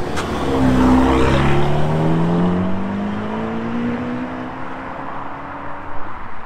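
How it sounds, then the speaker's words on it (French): A Ferrari 296 GTB V6 sports car engine roars past, its pitch climbing through the gears before fading away as the car pulls off into the distance. "terminé par la 296 GTB, la première Ferrari V6."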